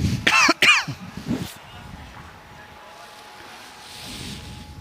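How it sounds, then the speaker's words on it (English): Two sharp coughs close by at a midweek State Pennant lawn bowls match, followed by a quieter throat sound and faint outdoor background. "Be careful when you cough around here."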